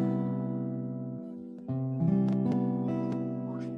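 Sustained guitar chord ringing alone, a major seventh voicing that holds steady, then a second strum with a few plucked notes rising over it, moderately loud and close.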